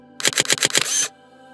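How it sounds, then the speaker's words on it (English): A DJI drone camera shutter fires a rapid burst of five photos for HDR exposure bracketing: five quick, evenly spaced mechanical-sounding clicks, close and crisp, followed by a brief whirring tail and then near silence. "tap the shutter button."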